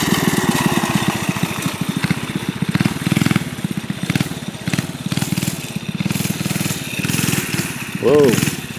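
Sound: mini bike engine

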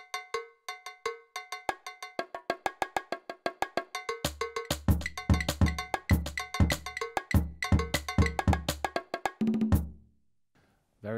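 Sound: band and orchestral percussion sounds on Yamaha DTX450K electronic drum kit

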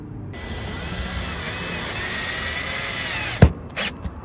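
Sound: driving screws to secure an RV roof vent

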